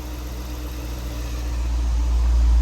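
A Jeep Grand Cherokee SRT engine, fitted with a K&N cold air intake, idles with a low, steady rumble, close and continuous, growing slightly louder toward the end.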